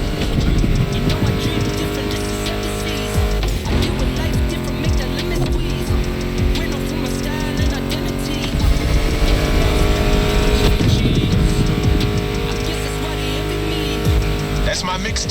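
Muscle car engines roar in the racing video game The Crew Motorfest, loud and steady throughout, mixed with a music track playing over them.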